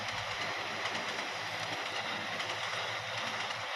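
The Blambangan Ekspress passenger train, hauled by a CC 206 diesel locomotive, rumbles loudly and steadily with a continuous roar of wheels on rails and faint rhythmic clatter, heard up close with no voices.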